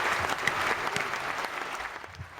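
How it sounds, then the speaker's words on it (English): A round of applause from a studio audience after a TV show review segment, steady dense clapping throughout, moderately loud and with no talk over it. "can we get a round of applause for Imogen and Jake for their great job"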